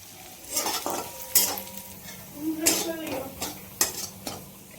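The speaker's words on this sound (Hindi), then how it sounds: "ये देखिए मसाले भुन गए।" Spices with coriander powder roasting in a pan for a home-cooked peas dish, stirred in quick scraping strokes that give soft sizzling bursts, close and moderately loud.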